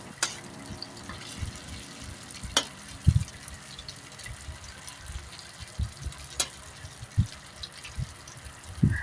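Tofu frying in oil in a pan, a steady low crackle with scattered pops and sputters, fairly close and without talk.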